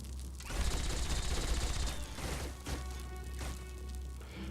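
Heavy-weapons suppressive gunfire in the tactical video game Xenonauts, a dense, sustained burst of rapid shots and crashing impacts running loud and continuous throughout, with no talk.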